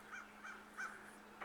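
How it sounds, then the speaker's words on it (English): A crow outdoors near a fast-flowing ditch gives four short, faint caws at a steady pace, distant over quiet background. "right where that crow is landing"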